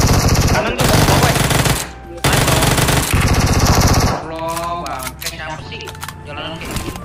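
Loud, close automatic gunfire in PUBG Mobile, with long rapid bursts that stop abruptly, then lighter clicks and clatter while voices talk over the action.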